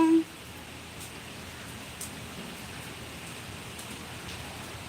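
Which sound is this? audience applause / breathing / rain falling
rain falling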